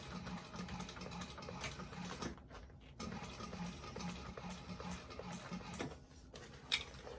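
A sewing machine runs a seam on a handmade bag, a faint continuous mechanical whir with short pauses and small clicks, quiet and somewhat distant.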